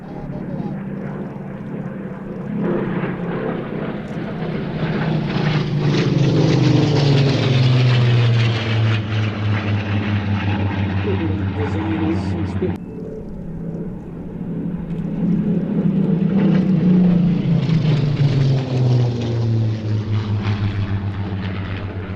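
Aircraft flying aerobatics at Sywell Airshow, the engine drone swelling and fading in two long passes, loud and close, with a commentator talking over it.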